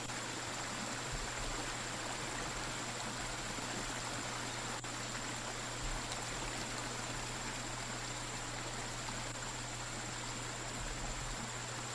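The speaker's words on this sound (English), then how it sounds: "I'm in a shallow area of the river right now" Shallow river water in the survival game BugOut, a steady, even rushing and babbling flow that continues unbroken at moderate, constant loudness with no voices.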